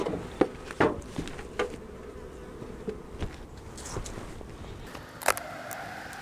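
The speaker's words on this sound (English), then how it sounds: "This is a healthy hive and a grumpy one." Honeybees buzz steadily around an opened hive during a spring swarm-cell split inspection, a close continuous drone with a few sharp louder bursts as bees fly past, and no talking.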